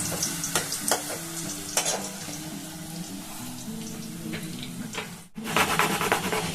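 Papdi frying in oil over a low gas flame gives a steady soft sizzle, broken by clinks and stirring knocks, with a brief gap near the end before the frying noise resumes louder.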